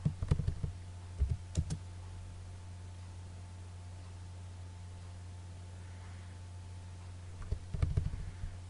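A few keystrokes on a computer keyboard enter a drawing command in AutoCAD. Short bursts of clicks come at the start and again near the end, with a quiet electrical hum in between.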